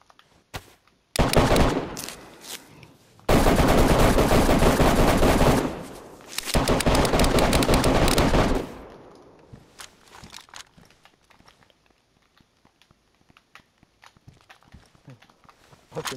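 Gunfire in the DayZ video game: two long, loud bursts of rapid automatic fire, followed by scattered footsteps and light movement sounds.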